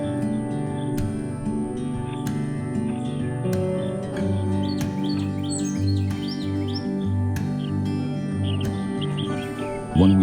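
Bluebird fledglings at a garden bird feeder give repeated short, high chirps, close and clear, with a steady lower background hum running underneath throughout.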